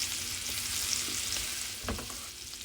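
Garlic sizzles with shrimp in a pan turned down to medium heat, a steady close frying hiss broken by a couple of soft spoon scrapes and knocks.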